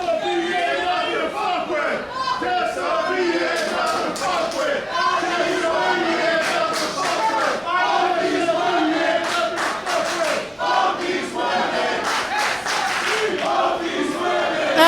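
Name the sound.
wrestling crowd chanting, split between two wrestlers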